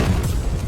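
A deep, booming explosion from an action film scene in which a man overdoses on three power pills and blows up, a loud rumbling low burst that fills the short moment alone.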